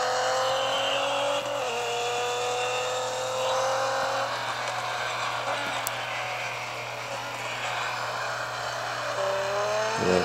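A 2015 Nissan GTR LM Nismo race car laps a track in a racing game, its engine droning loud and continuous with rising and falling pitch through gear shifts and corners.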